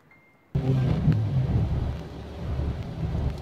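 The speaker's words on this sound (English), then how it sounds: "A lot of rain." Heavy rain pours steadily during a flooding storm, a dense loud wash that starts abruptly after a brief quiet moment and continues unbroken with low rumbling underneath.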